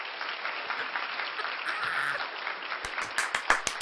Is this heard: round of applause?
yes